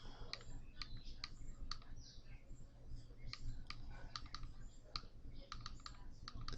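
Computer mouse clicks sound while navigating Kodi 18 settings menus, a scattering of light, irregular clicks over a faint steady background hum.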